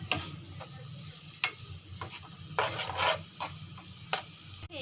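Chilli powder being stirred into a chicken sandwich filling in a pan, with scattered spoon scrapes and clacks over a faint sizzle and a brief louder rasping stir near the middle.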